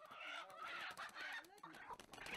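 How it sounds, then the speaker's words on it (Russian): Chickens clucking as they run around a rural home in the Mekong region, with a steady mix of overlapping clucks and short calls close by, filling the clip with busy farmyard chatter. "В другом доме бегают куры."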